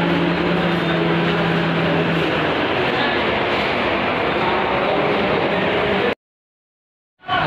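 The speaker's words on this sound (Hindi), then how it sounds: "हम रेलवे स्टेशन आ चुके हैं और ऊपर जा रहे हैं प्लेटफॉर्म नंबर हम 4 पर।" Busy railway station ambience in Firozabad, India, with a steady broadband rumble of trains and platform noise, loud and continuous, then cutting to near silence for the last second.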